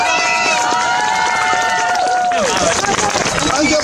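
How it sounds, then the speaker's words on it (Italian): A crowd at a living nativity scene in a town square applauds and cheers loudly, a dense continuous wash of clapping and voices lasting throughout, with tones of festive music running beneath. "un applauso per lui. Ma proprio forte!"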